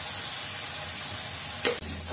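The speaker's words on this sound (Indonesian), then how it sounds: "aduk-aduk, tumis sampai benar-benar harum ya, dan sampai dia mengering" Tom yam spice paste sautéing in a pan, a steady bright sizzle that runs throughout, with one brief stirring scrape near the end, close and fairly loud with no talking.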